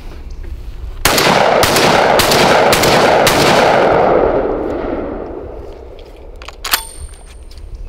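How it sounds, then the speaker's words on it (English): A Mossberg 930 semi-auto shotgun fires a rapid string of four or five loud, close blasts, each cracking sharply and ringing out into a long rolling echo, followed by a faint metallic clink. "for a semi-auto shotgun, this actually shoots surprisingly soft"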